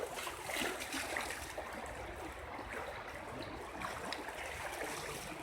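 Cold flood water flows across a road in Yalta, a continuous close rushing and splashing wash with no break, filling the scene steadily.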